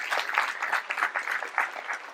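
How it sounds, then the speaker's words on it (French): Applause from the audience at a mayor's New Year greetings event in Les Forges de Lanouée, heard as a moderate, steady patter of many hands clapping, with a little crowd murmur. "on peut les applaudir une nouvelle fois"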